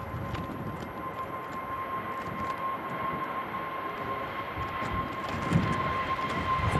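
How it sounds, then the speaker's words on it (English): A Brussels Airlines Airbus A320neo arriving at Manchester Airport in strong storm winds produces a continuous jet rumble mixed with gusty wind noise, a steady high whine running through and swelling slightly near the end. "Here's the Brussels Neo."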